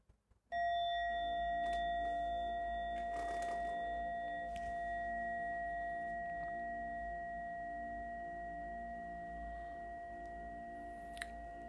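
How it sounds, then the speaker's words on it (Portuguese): A single meditation bell is struck once, ringing out with clear sustained tones that slowly fade over about ten seconds in a quiet room. "Começa com o toque de um sino e termina com três sinos."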